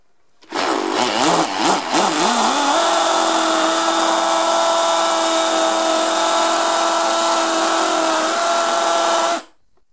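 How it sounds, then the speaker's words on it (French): A Bosch AdvancedImpact 18 cordless hammer drill bores into a block, its motor spinning up with a wavering start and then holding a loud, steady, close whine for about nine seconds before stopping. "On va percer là, j'espère que ça va pas encore se couper en deux"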